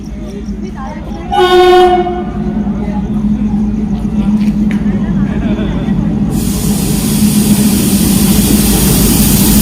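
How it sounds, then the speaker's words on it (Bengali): A passenger train pulling into Cooch Behar station, sounding a loud horn blast early on over a steady rumble of rolling wagons, then a hissing wash of noise joining the continuous clatter, close and loud throughout. "তো ফাইনালি আমার ট্রেন কিন্তু চলে এসছে।"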